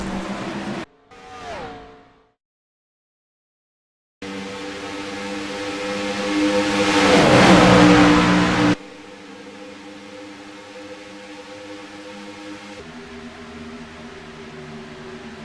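Race cars in a Daytona 250 racing video game replay, their engines roaring through a sustained swelling drone that builds to a loud peak, then cuts to a lower steady hum, after an earlier brief burst and a gap of silence.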